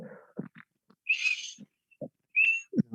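Two breathy, airy whistles with a bright tone made by blowing across a marker cap, each lasting about half a second, separated by brief quiet pauses and faint soft noises.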